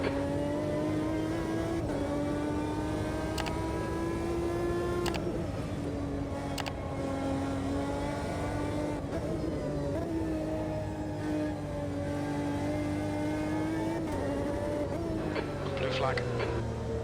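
GT race cars in Automobilista 2, recreating the FIA GT 2005 RAC Trophy, drone steadily up close with a sustained engine whine that rises and dips through gear changes, under continuous talk.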